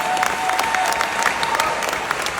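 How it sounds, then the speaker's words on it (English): An audience applauds a woman named Eva at a September 3, 2025 gathering, a loud, dense steady clapping that holds evenly throughout with no voices over it. "Let's give her a big round of applause."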